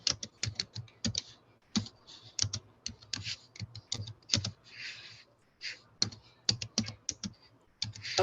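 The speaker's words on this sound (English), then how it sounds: "I can hear typing." Typing on a computer keyboard in irregular bursts of sharp clicks and key taps, close and fairly quiet, with brief pauses between runs of keystrokes.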